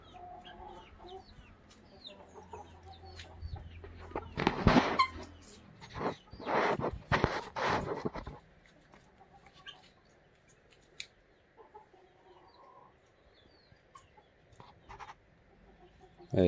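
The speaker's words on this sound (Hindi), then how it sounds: "गिनी कुकुड़ा" Guinea fowl clucking outdoors at a home, a cluster of loud harsh repeated calls in the middle with quieter scattered clucks and background noise around them.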